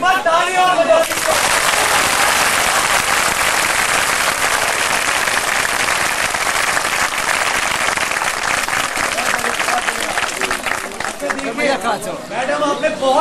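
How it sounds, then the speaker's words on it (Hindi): Audience applause following a Hindi speech, dense and steady clapping from a sizeable crowd that swells in and holds loudly for over ten seconds before easing, with some voices talking near the end. "एक बार ताली और बजा दीजिए।"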